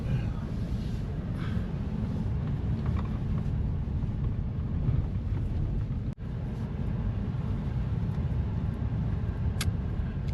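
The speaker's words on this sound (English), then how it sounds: "Bunch of cars coming through here." Cars passing on a road near a lake in Big Bear, California during a storm, a steady low engine and tyre rumble dominating throughout, with a brief dropout midway.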